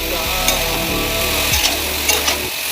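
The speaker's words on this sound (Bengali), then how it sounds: "এবার নাড়ছি, থোড় আলু চিংড়ি মাছ এবার নাড়া হচ্ছে।" Banana stem, potato and prawns fry in a pan while being stirred, with a steady loud sizzle broken by repeated scraping strokes of the spoon and no talking.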